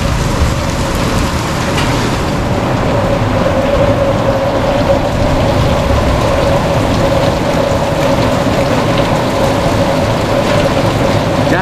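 Rain mixed with scattered hail of varying sizes, some as big as a quarter, pours steadily during a small storm, a dense, continuous hiss and patter with no talking.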